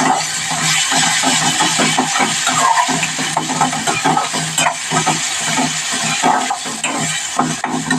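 Tomato and onion frying in a pan for dal tadka, a steady bright sizzle broken by repeated scraping knocks of a spoon stirring, close and continuous without talk.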